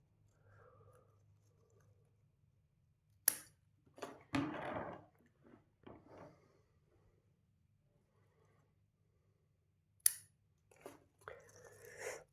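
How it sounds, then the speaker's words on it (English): Pruning shears snipping branches on a Chinese quince bonsai during a late spring cutback, a few sharp close clicks and rustles separated by quiet pauses. "And you can see I'm cutting back fairly aggressively"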